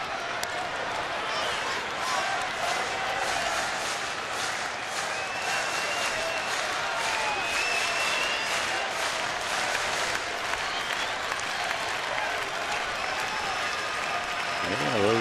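A baseball crowd of Phillies and Padres fans in a stadium cheers and applauds in a broad, sustained roar with scattered whistles, while an announcer talks over it.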